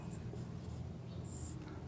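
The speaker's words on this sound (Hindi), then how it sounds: "तो मैं यहाँ लिखता हूं" Chalk or marker writing on a board in a maths classroom, soft scratchy strokes heard close under a low room hum, with a few brief squeaks.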